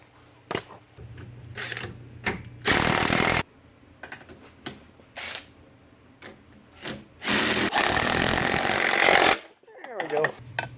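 A nut is tightened on a cab mounting bolt during a Tektite cab install on a John Deere 1023E compact tractor: two long, loud mechanical bursts stand out among shorter clicks and clatter, close by.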